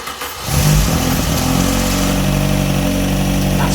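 A neglected Vauxhall Calibra engine, revived from a junkyard and briefly fed easy start spray, catches after half a second and runs loud and close with a steady, slightly rough drone.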